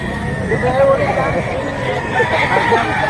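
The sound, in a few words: rooster crowing at a chicken market in Lipa, Batangas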